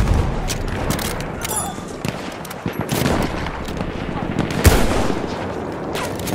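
Machine gun fire rattles almost nonstop in rapid bursts, mixed with heavier booms and scattered shots, while voices shout over the battle.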